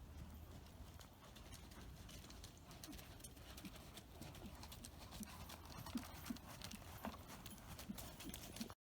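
Horse hooves clip-clopping at a trot over ground poles laid in crossed triangle shapes, steady rhythmic footfalls with a few sharper knocks as hooves touch poles, moderately close over a constant outdoor background hiss.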